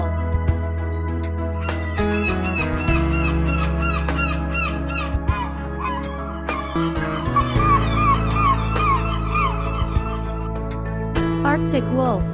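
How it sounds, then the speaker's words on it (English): Polar gull calls ring out in a string of short, honking cries, repeated irregularly and overlapping at moderate loudness over a steady low background hum. "Polar gull."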